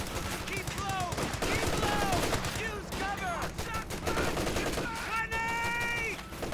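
MG34 machine gun fire in the strategy game Company of Heroes 2 rattles in sustained loud bursts, mixed with other gunfire and whistling, chirping sound effects, under continuous commentary.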